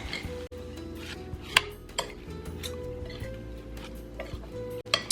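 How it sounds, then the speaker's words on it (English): Shredded bagged coleslaw tossed in a bowl with a honey, rice vinegar and lime juice dressing, giving soft clinks and taps of a utensil against the bowl at an irregular pace under a steady low background hum. "And give it a good mix."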